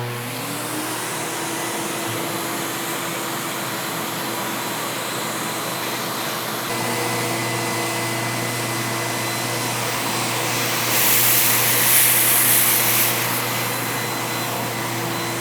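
A shop vac running through a long extension wand gives a loud, steady whooshing roar that lifts briefly toward the end.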